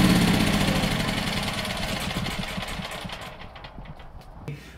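Portable generator engine running out of fuel, its steady rumbling drone roughening and shaking unevenly as it sputters and fades toward the end, with a brief knock near the close; no talking.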